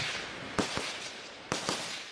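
Gunfire in an ambush on police travelling in Papua to recover the bodies of illegal gold miners: two pairs of sharp cracks, each a loud shot followed by a fainter one, rising over steady outdoor hiss.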